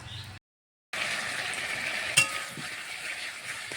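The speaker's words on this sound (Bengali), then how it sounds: "এবার ডাঁটাটার সঙ্গে কষে নিতে হবে আটা আলু আর মশলা ভালো করে একটু কষে নিয়ে তারপরে জল দেব" Greens stalks being stir-fried in oil with flour, potato and spices, heard as a steady, close sizzle after a short silent break, with one sharp clink of the stirring utensil partway through.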